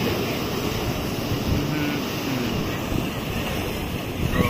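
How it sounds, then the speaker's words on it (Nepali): Sea waves at Diu on the Gujarat coast wash steadily over rocks, a continuous broadband surf roar mixed with wind buffeting the microphone, with no clear breaks between swells. "समुद्र कस्तो मजाको छाल छाल छाल समुद्रको छाल हेर्नुहोस्"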